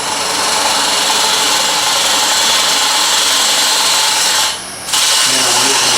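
A woodturning lathe spins while a parting tool cuts into wood, producing a steady, loud, hissing scrape that runs continuously and drops out briefly once near the end before resuming.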